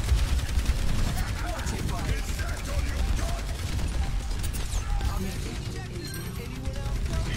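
An automated turret fires in Overwatch, a rapid mechanical rattle of shots running steadily through busy game noise, with voices talking over it.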